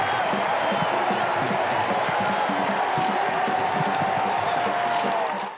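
Big stadium crowd at a Big Bash League cricket final between the Strikers and Hurricanes roars and cheers steadily after a big hit, a dense continuous wash of noise with faint commentary underneath.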